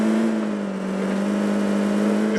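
A vehicle engine in a mobile battle-royale shooter drones as a steady, loud hum at constant pitch, close and continuous, with no voices.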